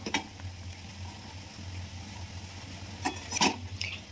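Masala for a Bengali prawn malai curry is sautéed in a pan: a low, steady sizzle and hum runs throughout, with a few sharp spatula scrapes and clinks against the pan near the end.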